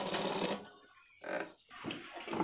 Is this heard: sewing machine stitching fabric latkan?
yes